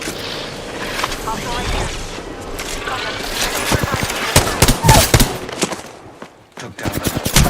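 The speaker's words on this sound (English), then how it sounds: "Squad is firing at us." Enemy squad opening fire in a video game, rapid bursts of automatic gunfire and sharp shots crackling loudly in clusters, with a short lull before more shots.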